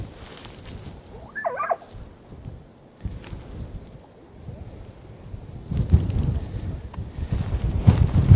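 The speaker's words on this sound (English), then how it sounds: "I'm up here at the start of the trail at Montezuma Pass, and it's cold and it's windy" Strong, gusty wind buffets the microphone at the Montezuma Pass trailhead, a low rumbling roar that swells and grows louder in the last few seconds, with a faint brief voice early on.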